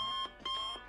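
Alarm clock ringing in Barn Finders: a loud, steady electronic beeping in two close bursts.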